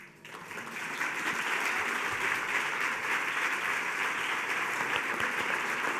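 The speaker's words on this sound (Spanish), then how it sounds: "Ese aplauso para Javier Lostalé" Applause for poet Javier Lostalé after a reading swells in quickly and holds as a dense, steady roar of clapping from a large audience, sustained for several seconds with no talk.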